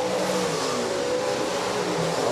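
USRA stock cars racing in a heat at Rapid Speedway, a dirt oval, with engines droning and revving steadily at mid distance throughout, a continuous blended roar with no pauses.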